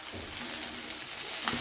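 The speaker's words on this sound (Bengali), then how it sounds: "একদম লাল লাল করে ভেজে নিলাম," Fish fries in hot oil over a high gas flame, a steady close sizzle running through the whole short stretch with slight crackles, no voices.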